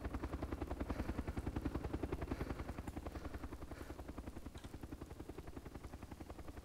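Helicopter in the DayZ Overpoch video game, a rapid regular rotor chop with a low thrumming drone, steady and moderately distant, holding level throughout without speech.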